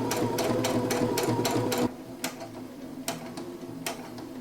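A sewing machine stitches a fabric hem in rapid, even close-up ticking bursts, then stops abruptly, leaving a few scattered clicks.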